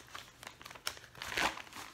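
Package being unwrapped, its paper and tape crinkling: soft, close rustling and crackling in irregular bursts, swelling to a louder crinkle near the end, quiet overall with no speech.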